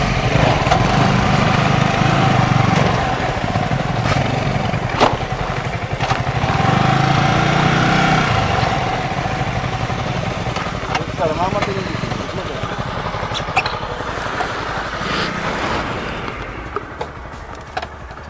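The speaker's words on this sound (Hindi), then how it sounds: "बच्चों के पार्क में हम बाइक घुसा रहे हैं।" A motorcycle being ridden into a children's park, its light engine running steadily and close throughout, with people talking over it.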